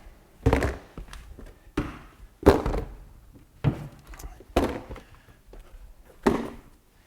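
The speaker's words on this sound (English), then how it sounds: "Last minute, I'm gonna gather a few pucks, shoot a few more, maybe backhand shots here." Hockey pucks shot one after another, including backhand shots, during a solo shooting session: about seven sharp, solid thunks spaced roughly a second apart, each dying away quickly, with no talking.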